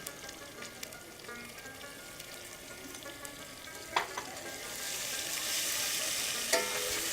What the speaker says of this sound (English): All of the ingredients are now sizzling together.